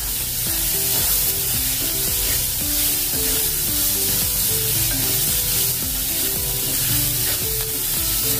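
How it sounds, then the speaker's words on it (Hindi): Steady sizzling of chopped onions, green chillies, garlic and ginger frying in a hot pan, continuous and fairly loud, with melodic background music playing throughout. "अच्छे से इसको कलर आने तक प्याज, हरी मिर्च, लहसुन, अदरक को भूनना है"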